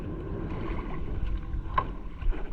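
A small wooden boat paddled on a choppy sea, with low rumbling water and wind noise, soft sloshing strokes and a faint knock against the hull.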